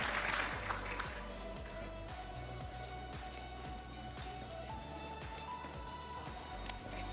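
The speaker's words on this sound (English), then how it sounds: "Can we give Yeni AI another round of applause," Summit audience at a national ICT event gives a steady round of applause, a dense sustained patter of many hands at moderate level, lasting throughout with low hum and a faint tonal whine underneath.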